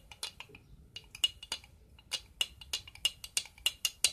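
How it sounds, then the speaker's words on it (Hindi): A metal spoon clinks repeatedly against a glass while honey is stirred into lemon water, with sharp, irregular taps close by and fairly quiet, and no voices. "और मैं इसके अंदर 1 स्पून हनी डालूंगी. इसको हल्के से मिक्स करेंगे."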